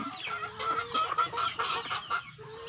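A native Bisaya chicken clucks close by in a quick run of short, repeated calls.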